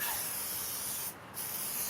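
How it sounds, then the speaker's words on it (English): A continuous close hiss of soap-and-water solution being sprayed along a tire bead, with one brief break partway through before the spray resumes. "But I'll just spray it"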